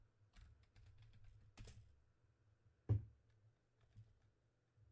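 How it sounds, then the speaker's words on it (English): Typing on a computer keyboard: a few quiet, scattered key clicks and taps with pauses between them, faint and close, with no voices. "I cannot type worth."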